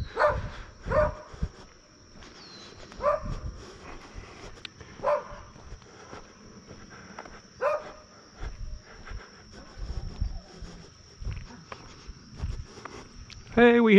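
Beagles out on a walk, giving several short barks and yips at a distance between footsteps, with a voice speaking now and then.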